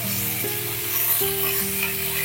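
Vegetables sizzle steadily in a pan for a Bengali polta leaf shukto, with light stirring and scraping throughout and a low steady hum beneath.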